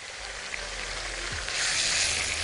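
Liver dropped into a hot pan with garlic sizzles in a steady, close frying hiss that swells louder midway, with no talking.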